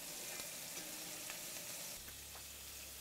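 Shrimp and scallops sear in a very hot cast iron pan, giving a steady, fairly quiet crackling sizzle with small pops, and a low hum joins in partway through.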